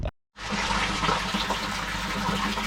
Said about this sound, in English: I can hear running water.